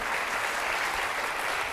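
TV game-show studio audience applauding, a dense steady wash of clapping throughout, fairly quiet and without talk.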